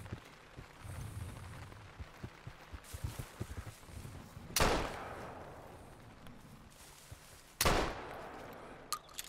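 Two loud, booming shots from a big game rifle in TheHunter: Call of the Wild, set in Sundarpata, Nepal, a few seconds apart, each one a sharp crack with a rolling tail over quiet outdoor game ambience.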